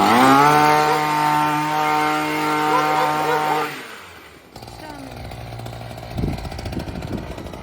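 A Craftsman 22 inch gas hedge trimmer engine runs at a steady high buzz for a few seconds, then cuts out, and rattling handling noises follow close by.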